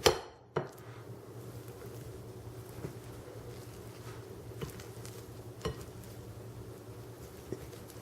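Cooked potatoes are mashed in a bowl, with soft intermittent thuds and scraping knocks against a steady low background hum and no talking.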